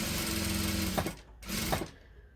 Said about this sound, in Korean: 재봉하시면 됩니다.